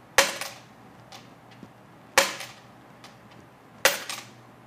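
Three sharp drops of a 90% silver coin onto a hard surface, each a bright, higher ringing clink with small bounces trailing after.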